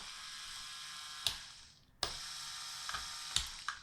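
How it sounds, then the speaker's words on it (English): Small LEGO electric motor powered over USB, running with a steady high whine and faint mechanical clicks, briefly cutting out and restarting, heard close and alone. "it moves the motor."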